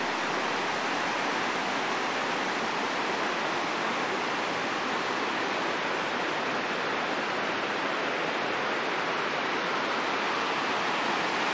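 Glacier-fed river water rushing across a flooded road, a loud continuous broadband roar that holds steady with no pauses and no voices.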